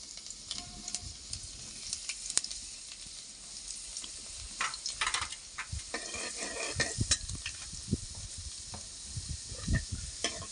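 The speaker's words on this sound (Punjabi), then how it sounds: "ਹੁਣ ਇਹਦੇ ਵਿੱਚ ਆਪਾਂ ਲਸਣ ਪਾ ਲੈਨੇ ਆ ਲਸਣ ਨੂੰ ਆਪਾਂ ਫਰਾਈ ਕਰ ਲੈਨੇ ਹਲਕਾ ਜਿਹਾ" Garlic frying lightly in hot oil in a home kitchen pan, a steady close sizzle with scattered scraping and stirring clatter from a utensil against the pan, no talking.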